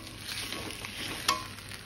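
Spices and mutton being fried and stirred in a pan for a Bengali-style mutton curry with potato: a soft, continuous sizzle with a faint scrape of stirring and one brief sharper clink.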